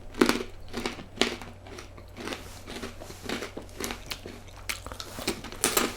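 Giant salty pretzels are crunched and chewed close up, giving repeated sharp crackly bites and grinding chews in an uneven rhythm over a quiet background.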